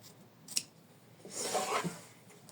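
Scissors snip once sharply, then make a longer close, quiet cutting pass as felt is trimmed around an in-the-hoop embroidered tulip petal, with no talking.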